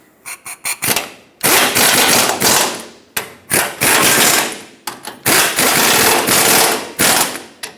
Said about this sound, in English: Reinstall the bolts for the steering box. Now let's snug them all up.